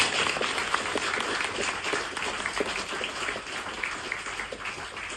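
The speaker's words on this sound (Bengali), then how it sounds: "তাদের সম্মানে একটা করতালি হবে" An audience at a BWB Food and Pads gathering gives sustained applause honoring leaders on stage, a dense continuous patter of many hands clapping at even loudness throughout.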